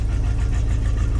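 1973 Ford F-250 truck engine running in snow after a cold start, a steady, close, rumbling idle with a slightly uneven knocking pulse and no talk.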